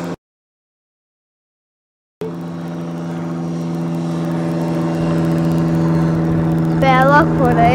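A 3-meter Reichard Baracuda model airplane's propeller engine drones steadily with a strong, even hum that slowly builds in loudness, while people talk over it.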